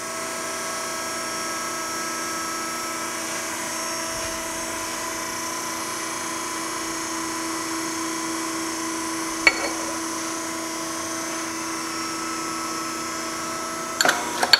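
A radius bender machine runs steadily during a destructive weld bend test, giving a continuous tonal mechanical whine at even loudness, with a couple of brief clicks near the end.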